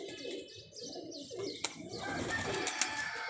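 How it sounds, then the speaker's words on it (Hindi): A pigeon coos softly, low and throaty, with a few faint chirps and clicks over a steady background. "ये डब्बा वाला कबूतर आया है।"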